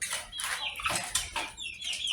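Free-range village chickens cluck in a close, busy flock during feeding, with short overlapping clucks and calls bursting repeatedly over a steady barnyard background.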